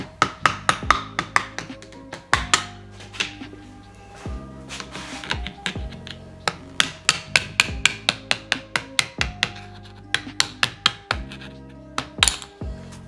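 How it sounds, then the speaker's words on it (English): Sharp metallic taps ring out as a screwdriver is struck to knock caps off a part during a Ford Aluminator XS to Tesla Model S swap, coming in close, loud bursts of rapid strikes with brief pauses between. "You just tap them off, take a screwdriver, and whack them off."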